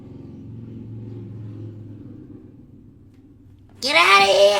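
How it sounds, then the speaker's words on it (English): A motorcycle engine rumbles low and steady for several seconds, then a loud shouting voice cuts in over the fading engine noise. "Stop driving your motorcycle so loud!"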